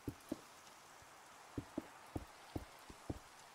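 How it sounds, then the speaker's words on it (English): Rain falls in modded Minecraft (All The Mods 7), a soft steady hiss with a scattering of faint, evenly spaced taps, heard alone and fairly quiet. "Yeah, get rid of this rain."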